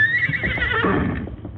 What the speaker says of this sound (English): The great horse was uneasy.